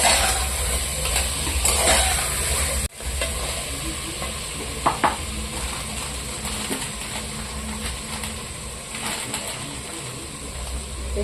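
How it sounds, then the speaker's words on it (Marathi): Mutton sizzles and is stirred in a pan over a high gas flame, a steady frying hiss broken by scraping spoon strokes and occasional metallic clinks. "गॅसची फ्लेम हायच ठेवायची आहे आणि याला परतून घ्यायचं चांगलं मटण"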